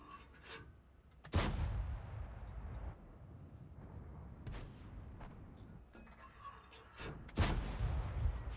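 Heavy cannon shots from a WZ-131 tank in the video game World of Tanks boom twice, loud and sharp, with rumbling aftermath and fainter distant blasts in between.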